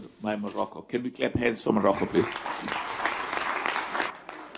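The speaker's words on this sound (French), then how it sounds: "Pouvons-nous applaudir le Maroc, s'il vous plaît?" An audience applauds Morocco as host of the 2025 Africa Cup of Nations, a burst of clapping that rises after a voice speaks and continues steadily to the end.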